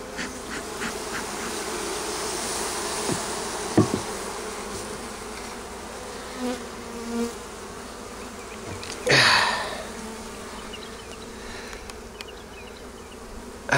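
Feral honey bees drone steadily at their hive in early spring, a dense continuous buzz with louder passes as individual bees fly close, plus a few brief knocks and rustles near the end.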